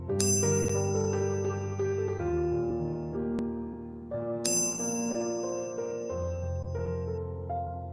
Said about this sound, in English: Another notification